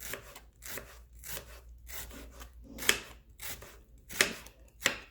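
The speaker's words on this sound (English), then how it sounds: "So I'm just gonna go ahead and cut it really thinly, because I don't like to bite into big chunks of" A knife slices an onion thinly on a cutting board, giving a run of about ten crisp, evenly spaced strokes, each a short rasping cut ending in a soft tap, close and clear with no talking.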